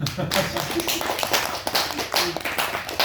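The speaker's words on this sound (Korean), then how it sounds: "박수 한번 보내주세요." A church gathering on Geomundo island claps for a missionary team, the claps mixed with voices and chatter that run underneath throughout.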